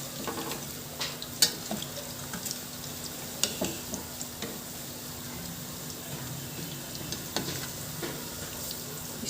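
Barule, crispy Aligarh-style fried snacks, sizzling steadily in hot oil in a pan over a medium gas flame, with scattered clicks and taps as the pieces are turned one by one.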